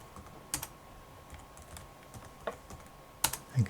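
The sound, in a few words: typing a user password on a computer keyboard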